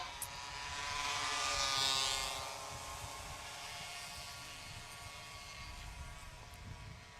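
49 cc mini road racing motorbikes pass at full throttle on a track, a faint high engine whine that swells, peaks and fades into a distant drone.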